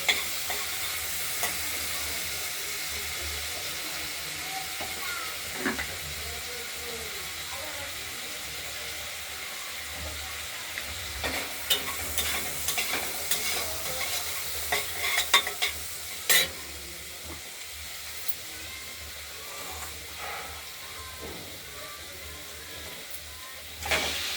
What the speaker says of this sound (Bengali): চিংড়ি মাছটা আমরা একটু ভাজা ভাজা করে নেবো